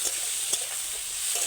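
Onion, tomato and capsicum stir-fried in a hot wok for chilli Maggi noodles, a steady loud sizzle with a brief stir scrape, no talk.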